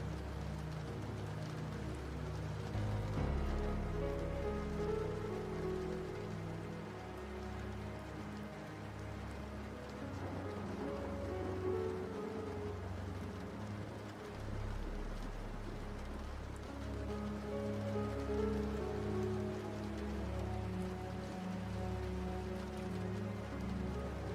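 Rain ambience from a Resident Evil game falls as a soft, continuous patter and hiss on surfaces, fairly quiet and unbroken, with no voices.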